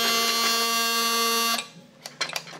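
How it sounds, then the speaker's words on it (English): A steady, harsh electronic buzz from a 1950s toy robot drones loudly for about a second and a half, then cuts off, leaving faint clicks and handling noise. "And there is the buzzer sound."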